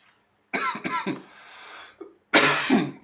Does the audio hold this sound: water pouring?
no